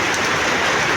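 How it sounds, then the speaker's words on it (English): Steady rain falls during a rainy season, a dense even hiss of drops on surfaces filling the short stretch with no talk. "Oh, it's raining."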